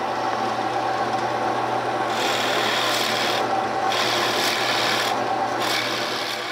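A drill press motor hums steadily while a Forstner bit grinds into wood in repeated passes, a rasping, rubbing bore heard close up with no talking.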